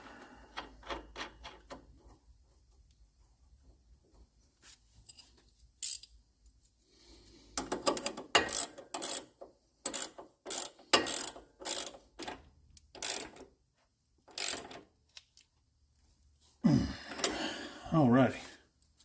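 Tools click and ratchet in bursts while a sway bar linkage is tightened on a 2015 Ram 1500 during a leveling kit install, with sharp metallic clacks near the end and someone talking over parts of it.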